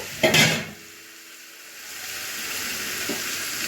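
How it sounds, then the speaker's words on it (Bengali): Chicken pieces drop into hot oil with a brief loud sizzling burst, then settle into a quieter, steady hiss of frying with a faint clink near the end. "আচ্ছা, চিকেনগুলো আমি এই তেলের মধ্যে ছেড়ে দিলাম।"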